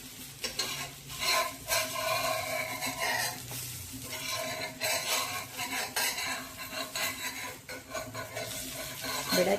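Pumpkin and wheat flour pancake batter cooking on an iron griddle, a soft sizzle broken by repeated scraping and clinking of a metal spatula against the pan.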